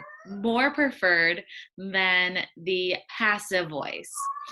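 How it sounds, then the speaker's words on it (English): A domestic cat meows repeatedly in the background, its calls faint and mixed beneath a person's steady close-up talking. "I'm sure that you guys can hear some of that cat meowing."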